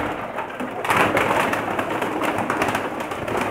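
Pakistani breeder pigeons in a loft coo in soft, low, throaty rumbles that repeat close by under a constant rustling background, with no talk.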